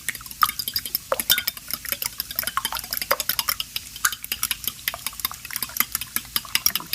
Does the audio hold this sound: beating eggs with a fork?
yes